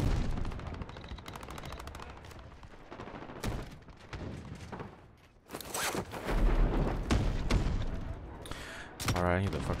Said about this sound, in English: I'm gonna snipe with the shotgun.